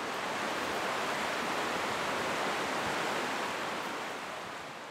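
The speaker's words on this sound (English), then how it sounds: "the highway noise fades into the sound of Short Sand Creek rushing toward the ocean" Short Sand Creek in Oregon rushes toward the ocean, a continuous broadband roar of flowing water that holds steady, then eases slightly toward the end, with no voices.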